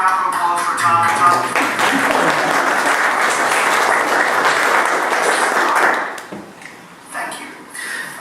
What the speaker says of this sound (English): please, another round of applause for Tom